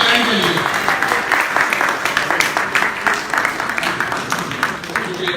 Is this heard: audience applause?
yes